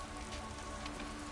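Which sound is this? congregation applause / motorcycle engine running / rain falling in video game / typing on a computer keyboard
rain falling in video game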